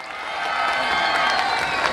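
A festival crowd at an outdoor stage show claps and cheers with scattered whoops, a dense, continuous ovation that swells slightly midway.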